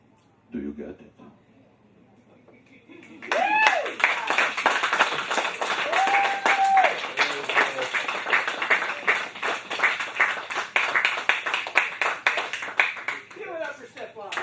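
At a poetry memorial celebration, an audience breaks into clapping for the poet Stefan after a brief voice. The applause swells into a sustained, rhythmic round of many hands with a few whoops.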